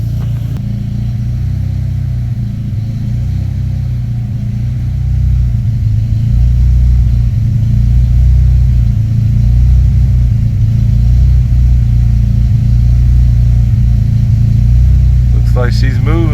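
A Honda Civic EK with a D16Z6 VTEC engine and a cheap eBay exhaust idles steadily nearby, a loud, constant low rumble that thickens slightly partway through.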